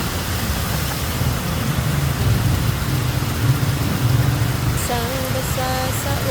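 Heavy rain pours down in a steady, loud hiss with a low rumbling undertone, while a faint melodic tone sounds briefly near the end.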